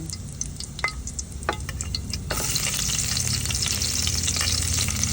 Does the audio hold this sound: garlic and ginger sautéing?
yes